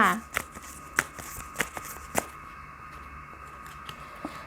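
Tarot cards shuffled by hand, a string of soft papery riffles and light taps repeating at an uneven pace, close and fairly quiet over a faint room hum.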